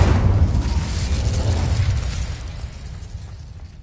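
A fiery spell blast in Hogwarts Legacy bursts loudly with a deep rumbling whoosh, then fades over a few seconds into a low crackling roar, with no voices.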